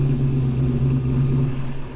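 A 1957 Chevy with a transmission smoking badly, heard from inside as a steady low engine rumble and road drone while driving, with no voices.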